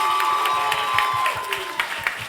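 Crowd applause with some cheering at a live music show at The Promontory: moderate clapping over a sustained held tone, thinning into a few separate claps.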